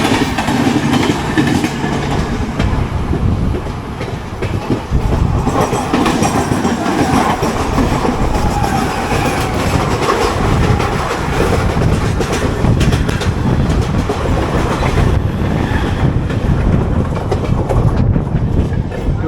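A 22476 Coimbatore–Hisar AC Express rolls along the rails with a steady, loud rumble and rhythmic clickety-clack of wheels over joints that runs unbroken for the whole stretch, with no voices.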